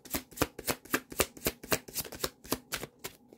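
Tarot cards riffle-shuffled in a steady run of about a dozen crisp, evenly spaced flicks, close and fairly quiet, with no voices.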